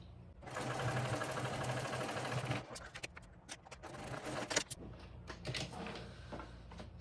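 A sewing machine stitches a backpack seam in a steady, fast whirring run for about two and a half seconds, followed by short stop-start bursts and clicks of the fabric being adjusted, close and fairly quiet.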